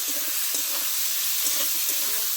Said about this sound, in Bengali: পেঁয়াজগুলো দিয়ে দিচ্ছি। একটু ভালো করে ভেজে নিতে হবে।